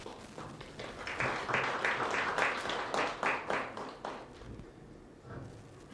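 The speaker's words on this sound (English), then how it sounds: "please join me in giving a very warm round of applause" Audience applause welcoming the chairperson of the UNOC board at a formal event with government officials, steady clapping swelling then fading over several seconds.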